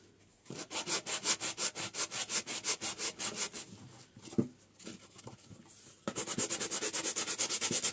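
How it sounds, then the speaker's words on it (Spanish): Rapid rhythmic strokes of sandpaper rubbing the paste relief on a vintage basket, a steady scratchy back-and-forth that pauses briefly with a few knocks, then resumes at a quicker pace. "Vamos a lijar esta parte de aquí."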